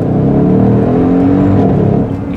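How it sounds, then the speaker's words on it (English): 2015 Mercedes-Benz ML63 AMG revving hard, a loud, close, throaty engine roar with crackling exhaust pops layered through it, easing off near the end, no talk. "I can't get enough of this popping exhaust sound"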